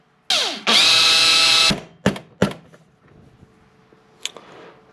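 A power drill with a drill bit spins up loudly in a long whine while working on a broken weld positioner, followed by a few sharp knocks and clunks as it stops.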